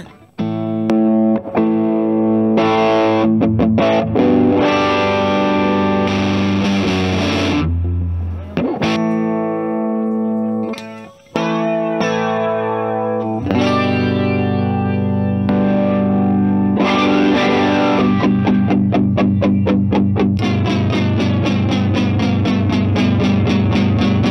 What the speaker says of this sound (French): Est-ce que tu peux nous refaire un AB s'il te plaît maintenant du flanger avant ou après?